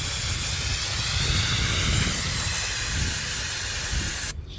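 An aerosol can of brake cleaner sprays in one long continuous hiss, close and loud, while cleaning out injector ports on a CLK63 AMG M156 6.3L V8, stopping abruptly near the end.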